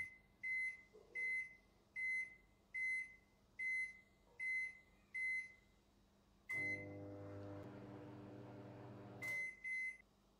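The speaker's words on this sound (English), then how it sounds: "as soon as you release the button, the microwave will start at full power" A series of evenly spaced electronic beeps, then a Morphy Richards microwave oven hums steadily at full power for a few seconds before two more beeps.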